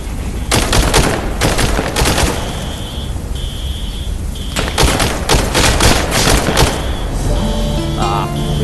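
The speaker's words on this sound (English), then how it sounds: "We shot through the dude." Rapid gunfire bursts in a VR shooting game, loud and close, with several sustained volleys separated by short gaps and a repeating high electronic beep in between, no speech.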